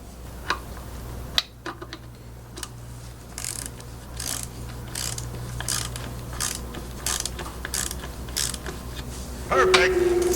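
Ratchet clicking in a steady series of short strokes while torquing bolts during a Honda B20B engine swap, close and moderately loud over a low hum.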